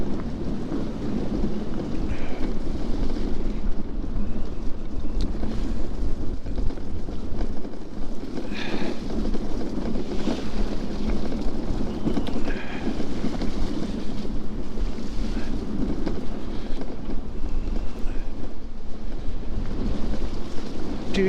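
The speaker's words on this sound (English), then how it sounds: "The wind's so bad." Strong wind blows outdoors along a muddy waterside path during a ride, a loud, constant roaring and buffeting rush that fills the whole stretch without letting up, with no voices.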